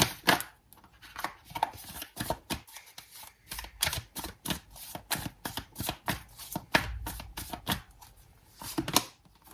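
Tarot cards are shuffled and drawn by hand, giving a quick irregular run of crisp riffling snaps and slaps, close and fairly quiet, with no voice over them.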